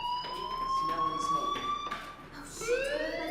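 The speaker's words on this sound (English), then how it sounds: "do you hear that fire alarm?" A fire alarm rings inside the video game Life Is Strange: a steady, piercing electronic tone that holds throughout, with fainter tonal sounds and some rising game effects layered over it.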